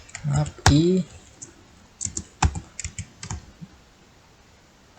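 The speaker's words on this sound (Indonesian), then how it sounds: "Kita ketik perintah while i" Someone types on a computer keyboard in short bursts of crisp clicks after a brief spoken phrase, the keystrokes near and fairly loud before trailing into quiet.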